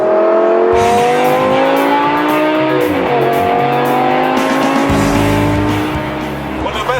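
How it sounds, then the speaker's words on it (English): Lamborghini Gallardo engine revving hard, a loud sustained rising engine note with steady climbing tones and a gear-change dip, close and dominant throughout. "that engine is right behind you when you floor it. Listen, it's just crazy"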